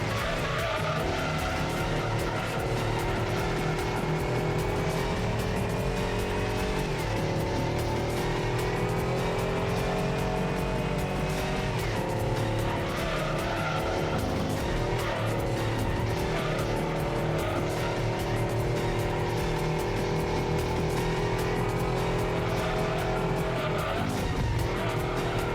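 A race car in Gran Turismo 2 on the Trial Mountain circuit roars continuously at high revs through a corner, tires squealing and skidding as it slides out of shape, loud and steady throughout.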